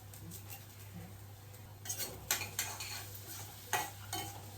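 Mustard seeds and cumin fry faintly in hot oil for a Telugu curry tempering. A soft sizzle runs underneath, and a spoon stirs and clinks against the pan in several sharp taps toward the end.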